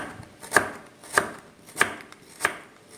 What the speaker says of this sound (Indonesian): Yang pertama saya akan potong wortel.